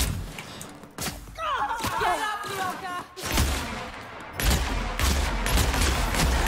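Bursts of gunfire from The Outer Worlds, a loud volley of shots with heavy thuds and booms in uneven clusters, alongside tonal game sounds and effects.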